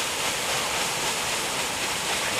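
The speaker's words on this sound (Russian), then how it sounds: "Удар плит о воду." A paddle steamer's wheel churns the river, its paddle boards striking the water in a constant, loud, even rushing wash with no voices.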